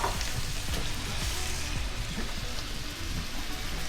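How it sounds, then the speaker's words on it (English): Tomatoes land in hot onion sauce in a pan and crackle into a steady, dense sizzle that continues on its own without any talking. "So I'm just gonna go ahead and just add these tomatoes straight in."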